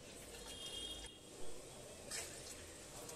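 Milk pours steadily into a heavy-bottomed pot in a soft, continuous stream, with a couple of brief splashy surges partway through; quiet and close, no voices.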